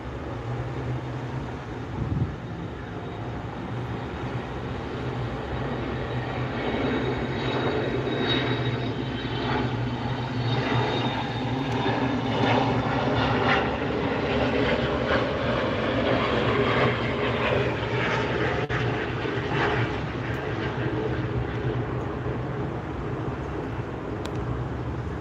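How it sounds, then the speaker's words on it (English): A one-year-old Gulfstream G280 business jet, built in January 2022, takes off at John Wayne Airport, its engine roar a loud, steady broadband rush with rising whine tones that holds throughout with no voices. "So enjoy the takeoff from this Gulfstream."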